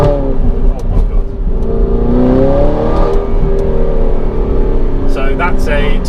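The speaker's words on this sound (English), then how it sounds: "I fitted an aftermarket exhaust in the car, which sounds insane." An Audi R8 V8 engine revs loudly and steadily with a deep, raspy growl from an aftermarket exhaust, close by, rising and holding pitch throughout.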